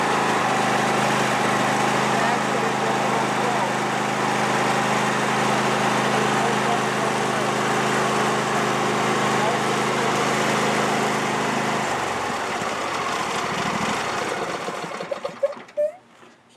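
A Husqvarna YTH22V46 riding lawn mower with a 22-horsepower V-twin engine runs at a loud, steady drone, then the engine cuts off near the end, leaving a few faint clicks and a brief voice.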